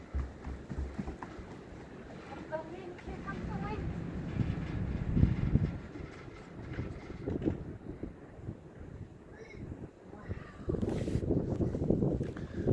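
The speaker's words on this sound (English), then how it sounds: "The wind, here comes the wind." Wind blows outside a house on a windy day, a rushing, buffeting roar that swells and fades over several seconds, with voices talking intermittently over it.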